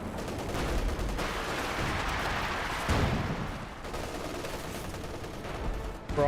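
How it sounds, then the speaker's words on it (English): An artillery barrage fires in the video game Company of Heroes 2, heavy booms and crackling gunfire rolling on continuously for several seconds, with a fairly constant battle din. "Barrage still firing away"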